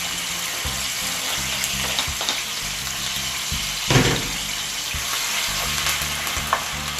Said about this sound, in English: it's now time for us to saute our natural season